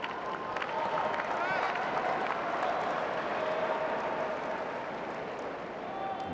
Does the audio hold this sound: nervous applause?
yes